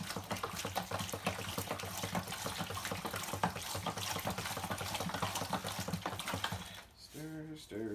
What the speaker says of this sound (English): I'm just going to go ahead and just stir, stir,